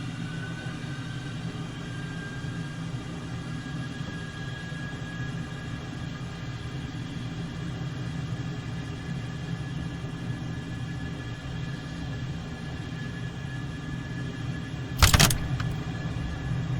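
F-14 Tomcat jet in MSFS 2020 taxiing after parking brake release: a steady engine drone with a high whine held evenly throughout, and a brief sharp clatter near the end.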